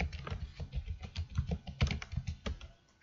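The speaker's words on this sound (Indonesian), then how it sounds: "Kita ketikkan kembali." Rapid, uneven clatter of keys on a computer keyboard while text is entered into a C program in Visual Studio, close and clear with no talking.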